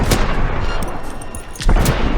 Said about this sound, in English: Hit her with a grenade.